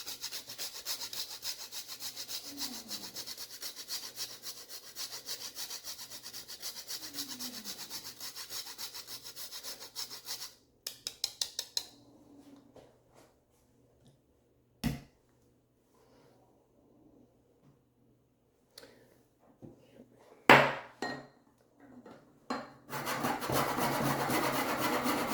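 Whole nutmeg is grated into a bowl, making a soft, close, rhythmic rasping scrape for about ten seconds, followed by a few scattered clicks and knocks and a louder rustle at the end.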